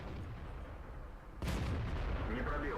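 A tank fires a HEAT shell in World of Tanks: a single sudden, sharp, booming blast cuts in over a quiet background rumble, and the heavier din lingers afterward.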